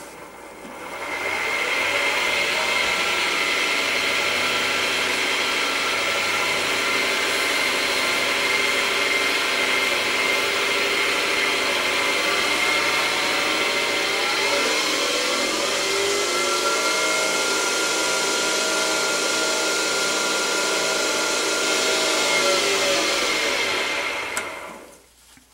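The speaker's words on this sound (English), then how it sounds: "now we'll crank the RPM up." A lathe turning a helix pen spins up to higher RPM, a steady loud whine that holds close for over twenty seconds, its pitch shifting as speed changes, then cuts off at the end.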